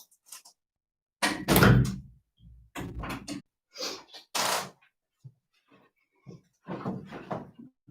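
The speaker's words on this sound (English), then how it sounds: "1 second, I'll just shut that door again." A door is shut indoors on a windy day: a few close thuds and rattling knocks, separated by short silent gaps.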